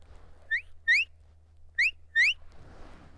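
Four short, rising sheepdog whistle commands, a single pip then a double, a pause, then another pip and a longer upswept note, sounded softly and cleanly by a person against quiet background hum.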